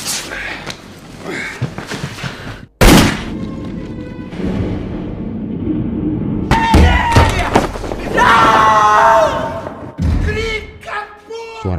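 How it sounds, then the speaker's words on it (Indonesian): A single sharp gunshot from a pistol cracks out abruptly in a narrated story about a night scene, a loud thud followed by a ringing decay, among stretches of speech and music. "Suara tembakan memecah keheningan malam"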